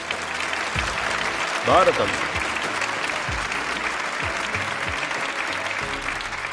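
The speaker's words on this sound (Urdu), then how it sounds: "تالیاں۔" An audience claps for a girl about to be tested on Quran memorization, a steady wash of applause throughout with a brief spoken voice near the middle.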